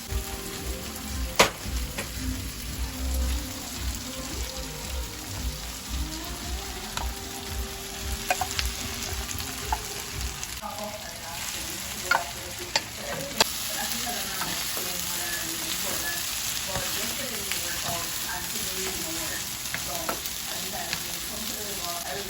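Rice being stir-fried for Jamaican-style shrimp fried rice, a continuous close sizzle broken by repeated scraping and tossing strokes in the pan, with a few sharper clanks along the way.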